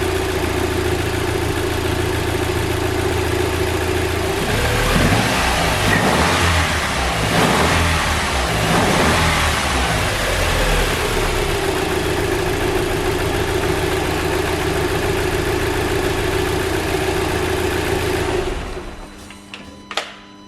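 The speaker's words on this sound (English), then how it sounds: "I said I was going to get it running and we have got it running" An Audi A3 2.0 TFSI engine runs after a turbo repair, idling steadily, then revving through several rises in the middle before settling back to idle and cutting off near the end. It is loud and close.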